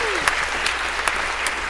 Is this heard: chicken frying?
no